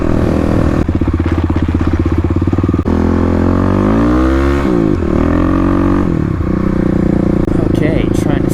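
Kawasaki KLX351 with a loud Barker aftermarket exhaust revs hard on city streets, engine climbing and falling through several throttle blips, close and dominant, with a rider talking over it.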